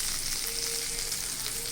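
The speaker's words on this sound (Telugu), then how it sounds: "ఇది వేగుతుంది చూడండి" Battered pumpkin flowers frying in hot oil, a dense, steady close-up sizzle and crackle that holds constant throughout.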